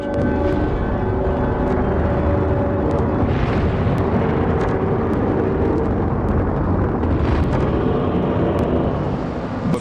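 A failing Vanguard rocket launch gives a continuous, heavy, dense roar at steady high loudness for the full ten seconds, with some brief bright crackles on top.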